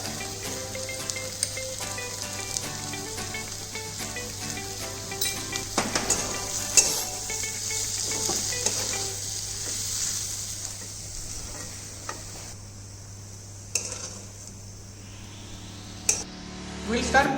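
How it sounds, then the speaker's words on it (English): Boiled cubed potatoes tossed and frying in a pan with a spiced mixture, giving a steady close sizzle with occasional stirring scrapes and clinks throughout. "Add boiled cube potatoes and just toss them in the mixture for a couple of"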